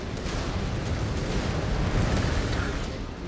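A destroyed mech blows up in MechWarrior 5: Clans, a dense roaring blast that stays loud and rumbling for a few seconds.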